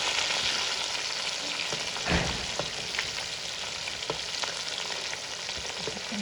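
Stuffed bitter gourd (karela) filled with minced meat fries steadily in a pan, giving a continuous close sizzle with a few scrapes and turning clicks, no voices.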